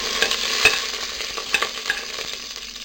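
Cinnamon, cloves, cardamom, bay leaf and curry leaves frying in hot ghee for Kozhikode-style chicken biryani, a brisk close sizzle with quick stirring scrapes and a few sharp pops over a short stretch.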